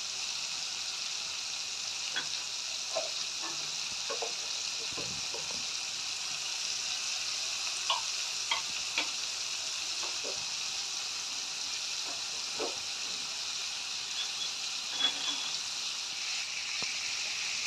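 Turmeric and chilli masala cooking in ghee with added water sizzles with a steady hiss, with occasional faint stirring clinks and soft bubbling, moderately quiet.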